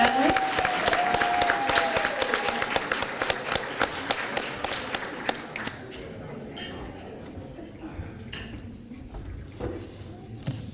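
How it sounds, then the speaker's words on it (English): Applause from a room of people for two young men asked to stand, sharp close claps at first that thin out after several seconds, with faint murmuring and a few clinks beneath. "will you please stand so we can give you a round of applause?"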